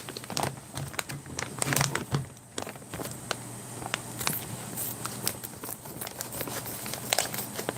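Someone cuts open a white plastic Daff Black Line Menu 6 Paella ration pouch, making a run of sharp, close crinkles, snips and crackles that come irregularly.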